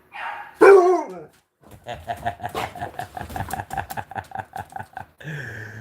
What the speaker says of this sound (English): you hear my chihuahua hollering in the other room